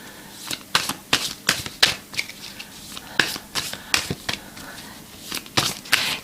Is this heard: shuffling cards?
yes